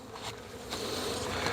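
Honeybees buzz around a hive during winter feeding after being smoked, a short, faint, steady hum of many insects.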